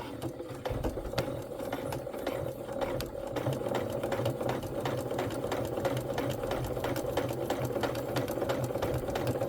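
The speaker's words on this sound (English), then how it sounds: "So make sure that your needle is stopping down in the fabric as you go." A sewing machine stitching pieces of quilt fabric, a steady rapid mechanical whirring and ticking that runs unbroken at close range, with no talking over it.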